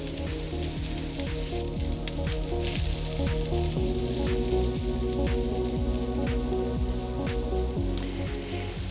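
Continuous crackling sizzle of sweet peppers and onion frying in a pan over medium heat, dense popping spatter over a steady low hum, close and even throughout.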